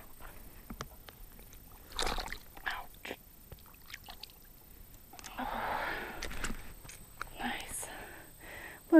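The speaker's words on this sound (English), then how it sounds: "I'm gonna try to rinse them off a little bit." A freshly caught bass is rinsed in water at the bank of a lake or river: a soft sloshing swirl in the middle of the clip, with quiet whispered talk and breathing around it.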